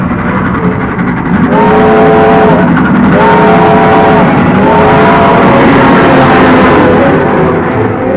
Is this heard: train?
yes